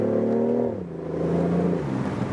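A BMW i8 Roadster's 1.5-liter turbocharged petrol engine holds a steady low rev, then dips and settles into a lower droning note, heard close and alone.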